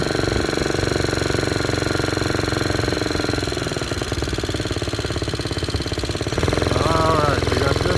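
A motorized bicycle's small engine runs steadily through a New Year's Day ride, a loud continuous knocking drone with rhythmic pulsing, while a voice talks over it.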